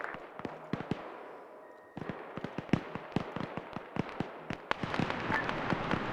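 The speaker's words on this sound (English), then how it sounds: "Get spread out, I think I hear mortars coming." Mortar and gunfire explosions in a military video game, a dense run of sharp booms and cracks going on for the whole stretch, close and loud, growing busier toward the end, with no speech over it.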